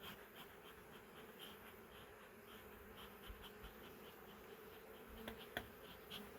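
Honeybees buzz continuously around an open hive, a soft, close, dense hum with a few individual bees passing nearby.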